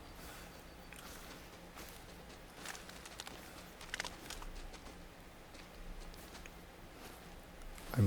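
Footsteps crunch steadily through brush and ground cover in a hunting video game, faint soft steps over a constant outdoor ambient hiss.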